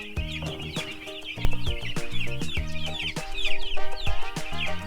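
Free-range chickens clucking and calling in a grower house, a dense overlapping flock chatter with some higher peeping, steady and close throughout, with no talk.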